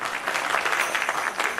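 Enthusiastic applause at an Indian award ceremony, a short burst of dense crowd clapping heard at moderate volume with a slightly muffled, roomy quality.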